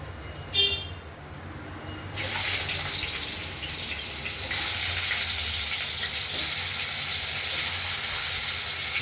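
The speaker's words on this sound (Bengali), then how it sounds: "কেটে রাখা আলুগুলো আমরা এই ফোড়নের সঙ্গে একটু ভাজা ভাজা করে নেব" Diced potatoes drop into hot oil with tempering spices of cumin and dried red chilli, and a sudden loud, steady sizzle and hiss follows a brief clatter, then continues, growing slightly stronger, with no talking.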